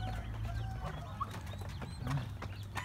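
Rhode Island Red chickens scattered around a backyard farm, soft intermittent clucks and low murmuring calls close by over a constant hum of farmyard background.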